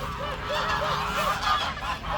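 Several geese in a village coop honk repeatedly in a noisy chorus, close by and fairly loud, over a low background rumble.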